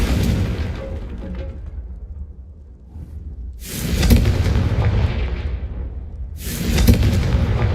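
Confringo explosive spell blasts in a Hogwarts video game: two heavy booming bursts with long rumbling decay, the second hitting about halfway through and another erupting near the end, loud and close.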